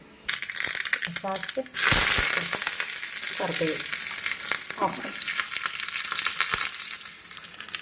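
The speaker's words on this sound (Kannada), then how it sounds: "ಇವತ್ತೊಂದು ಸ್ವಲ್ಪ ಒಗ್ಗರಣೆ ಮಾಡೋಣ ಅಂತ ಮಾಡ್ತಾ ಇದ್ದೀನಿ" Spices crackle and sizzle in hot oil as a tempering for chutney. A sharp burst of frying erupts early and then settles into a steady hiss, with a voice talking briefly over it.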